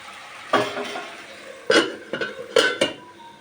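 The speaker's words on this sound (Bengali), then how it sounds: "এবার আমি ঢেকে দেবো আবারও" A cooking pot for a vegetable curry with lentil dumplings (bori) gets covered, giving several sharp metallic clanks and scrapes of a lid and utensil against the pot, close and fairly loud, in separate bursts with no voice.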